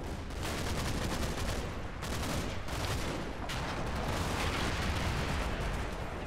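Gunfire and artillery in the video game Combat Mission set in Normandy, a dense continuous barrage of rapid shots and booms, loud and unbroken.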